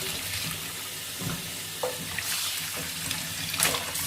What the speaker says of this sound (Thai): ล้างให้สะอาดไปเลย